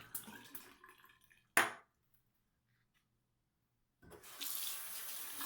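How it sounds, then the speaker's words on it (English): Tap water runs into a sink for cool-water face rinsing during a wet shave, with two bursts of steady splashing flow separated by a near-silent pause and a brief sharp splash between. "I'm going to rinse my face with cool water."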